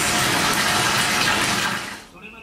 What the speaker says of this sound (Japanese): なんとこちらのシャワーがですね、このセレブ式です。